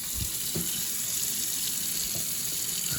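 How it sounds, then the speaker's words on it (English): Water runs steadily from a faucet under a sink after a cracked water filter system was repaired, a constant close hiss with a few faint knocks underneath. "the water's back onto the faucet"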